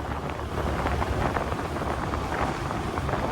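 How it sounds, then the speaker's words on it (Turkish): Constant loud wind buffeting the microphone while riding a TVS Raider motorcycle at night, a dense roaring rumble with no pauses throughout. "Rüzgar çok değiyor rüzgar."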